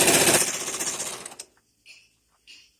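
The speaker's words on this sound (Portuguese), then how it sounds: "Agora nós vamos dar uma costurada nela." A Brother LS 2125i domestic sewing machine stitches through a scrap of fabric after cleaning and lubrication, a loud steady rapid whirring run lasting over a second before stopping, followed by a couple of faint brief handling sounds.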